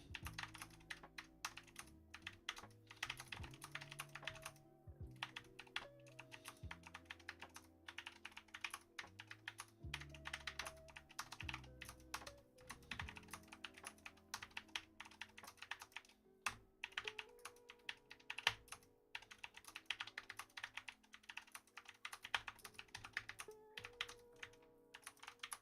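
Steady typing on a mechanical keyboard fitted with MX Alpha keycaps, close and fairly quiet, with quick irregular runs of clacky keystrokes continuing throughout without any talking.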